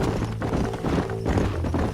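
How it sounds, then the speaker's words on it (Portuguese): Horse hooves clip-clop at a steady gallop in the Red Dead Redemption video game, loud and close, a dense continuous rhythm of hoofbeats over a rumbling background. "Porra, o cavalo."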